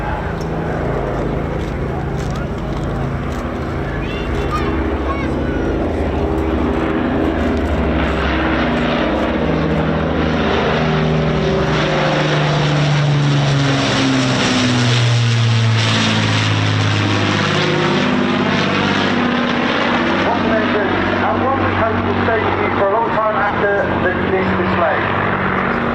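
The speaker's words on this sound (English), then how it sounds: "I'd like to give you a moment to appreciate the roar of the iconic engines as they make their approach now." Avro Lancaster PA474 bomber on approach at an air show, its piston engines roaring loudly and steadily with a deep propeller drone that swells and shifts in pitch as it passes close by.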